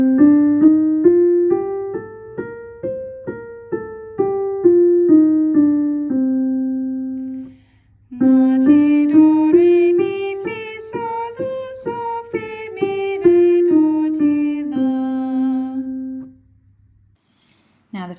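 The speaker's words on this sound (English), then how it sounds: "And the Dorian scale sounds like this." A Dorian scale is played up and back down twice as steady, evenly spaced tones: first in a mellow voice, then in a brighter, richer timbre, with a short pause between the two runs and no talking.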